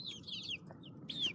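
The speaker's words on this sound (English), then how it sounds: "Look at the chickens." Chickens in their outdoor run give short chirpy clucks, a few quick calls near and fairly soft over a low hum of the surroundings, with no talk.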